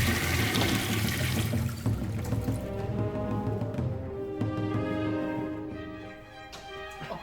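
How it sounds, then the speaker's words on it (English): Water gushes from a tap into a sink during hand washing, starting as a loud, close rush and thinning to a lighter trickle and ringing patter as it tapers off. "Oh, I just washed my hands"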